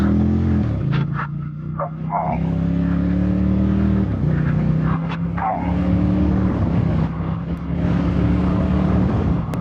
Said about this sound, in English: we start with a light throttle to get going, then shift to second gear, then third, and then fourth